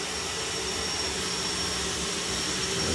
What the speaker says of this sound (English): I'll repeat it after the jet car has run.